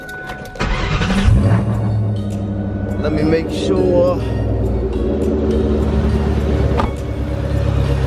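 Car engine idling and revving after an oil change, a steady low rumble close by with a brief rise in revs, while a person talks over it.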